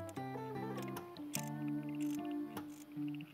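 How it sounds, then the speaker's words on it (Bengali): A Moxi flasher fitted to a Suzuki Gixxer motorcycle chimes in a quick melodic pattern of electronic tones, repeating in short rhythmic bursts, fairly quiet and close. "এটা হচ্ছে ফ্লাশারের সাউন্ড"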